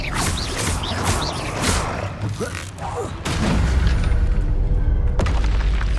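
Confringo spell blasts go off in the Hogwarts Legacy game, dull booms and crackling impacts mixed with combat effects. A voice is heard over them, and a heavy rumbling layer rises in the second half.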